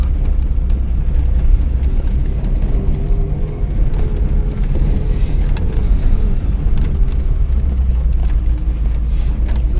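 Inside a car on a rutted, muddy, pothole-filled road to the district centre, a loud constant engine and road rumble is broken by small jolts and knocks as the wheels drop into holes.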